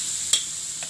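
Onion fries in oil in a pan for Javanese fried rice, giving a faint, steady sizzle with one sharp tick from a utensil partway through.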